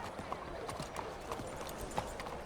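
Horse hooves clopping in Red Dead Redemption 2, a horse being led on foot with uneven, spaced hoof strikes, close by over faint background ambience.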